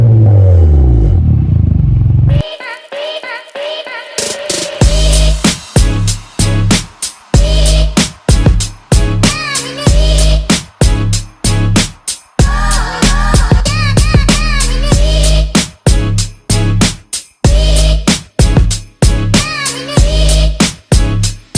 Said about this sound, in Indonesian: Nah sekarang kita dengerin suara knalpotnya kayak gimana ya friends ya.